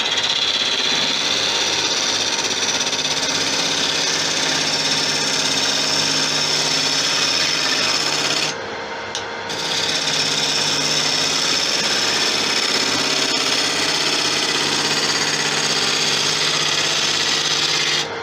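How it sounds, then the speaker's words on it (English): Carbide tool cutting across a spinning resin and wood hybrid bowl on a woodturning lathe, a steady loud whine and hiss that runs unbroken apart from a brief dip partway through, with no talking. "Now, hit with the carbide. To get a good finish on the resin."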